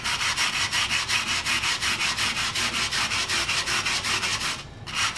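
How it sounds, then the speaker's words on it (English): A file card scrubs the teeth of a rasp to clear out gunk, a fast regular back-and-forth scraping of even strokes, close and steady throughout. "I think I'm going to go over it with a file card"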